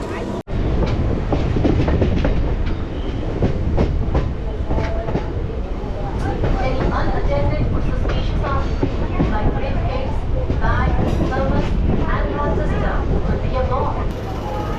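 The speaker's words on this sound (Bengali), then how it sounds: "এখান থেকে আমার একটা লোকাল ট্রেন আছে এই ট্রেনে করে আমি যাব" Local train at Howrah railway station, a steady loud rumble of rail traffic and rolling carriages filling the scene throughout, with voices and station bustle mixed in underneath.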